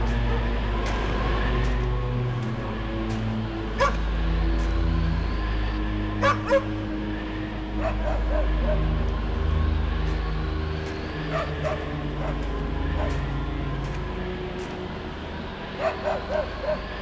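Sled dogs on a polar expedition bark, yip and whimper throughout, some sharp barks close and others farther off, over a steady low rumble.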